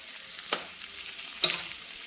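Chopped ingredients with turmeric powder being sautéed in a pan, a soft steady sizzle with two sharp spoon scrapes against the pan, close and quiet, no talking.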